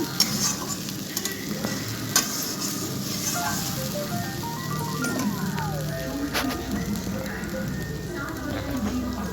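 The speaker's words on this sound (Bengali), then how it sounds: "পেঁয়াজ ভাজা হয়ে গেলে আমি দিয়ে দিচ্ছি বেটে রাখা মশলাটা" Ground spice paste hits fried onions in a pan for a chicken curry, giving a steady, close crackling sizzle with repeated scraping strokes of a spatula throughout.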